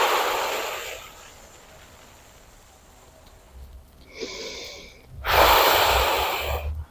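Slow breathing in and out through the mouth during a stretching exercise, two loud airy breaths separated by a quiet pause with a faint sniff, close to the mic and without talk.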